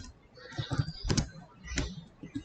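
Typing on a computer keyboard at close range, a quick irregular run of soft key clicks with a few louder taps.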